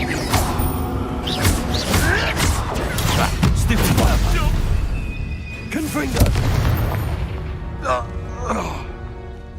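A Confringo fire spell blasts during a Hogwarts Legacy fight, giving loud booming impacts and crashing bursts, several hits in a row, with voices and combat noise mixed in.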